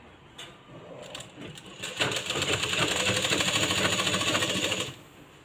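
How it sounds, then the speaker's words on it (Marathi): Sewing machine double-stitching a blouse, a close rapid rattling run of about three seconds starting abruptly and stopping cleanly, preceded by quiet handling sounds. "बघा आता आपण यावरती डबल शिलाई मारायची आहे"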